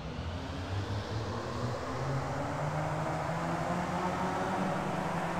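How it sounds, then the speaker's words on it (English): A dense roar of many race car engines in an iRacing sim race at Summit Point drones together, broad and steady with a low rumbling hum, loud and continuous with no talking. "You can hear the engines firing up."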